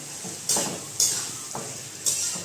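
A spoon stirs spices and salt into a green moong curry in a pan. Four distinct scraping strokes come at a steady pace over a low, constant sizzle, close and alone with no talk.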